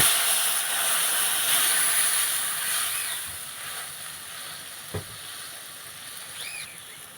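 Water is poured into a pan of sizzling cabbage curry with hilsa fish head, seasoned with turmeric and chili powder, giving a steady, soft broadband hiss that runs without talk.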